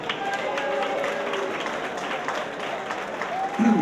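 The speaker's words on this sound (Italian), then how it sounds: "Forza, un applauso" Audience applause at the opening of the Ring Rooster 2018 boxing event, a dense steady wash of clapping and crowd noise, with voices and cheers mixed in and a brief whistle-like tone near the end.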